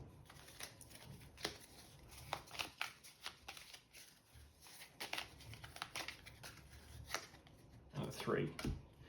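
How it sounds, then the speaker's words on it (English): A deck of playing cards is shuffled during a card game, giving several quick riffling and flicking bursts up close, with short pauses between them and no talk over the sound. "So let's shuffle this bad boy up."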